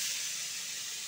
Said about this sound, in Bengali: কড়ায় তেল দিলাম, দিয়ে আজকে একটু আলু খোসা ভাজছি